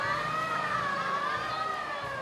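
A mini fire truck in an illuminated holiday night parade sounds a continuous wailing siren, its pitch sweeping slowly up and down, loud and steady throughout.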